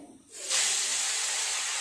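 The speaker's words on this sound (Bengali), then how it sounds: "খুব ভালোভাবে তেল গরম হয়ে গেছে মাছগুলো দিয়ে দেব" Bombay duck (lote) fish hit very hot oil in a wok, bursting into a sudden, loud, steady hiss of frying that continues undiminished.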